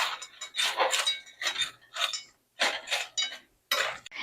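Fries tossed with salt in a bowl make close, crisp rattling and scraping bursts in an uneven rhythm, separated by short silent pauses.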